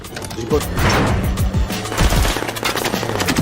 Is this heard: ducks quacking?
no